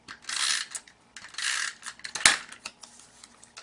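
A snail adhesive tape runner rolls glue onto a strip of card, giving a few bursts of dry ratcheting clicks and rasps close by, with a sharp tap midway and no talking.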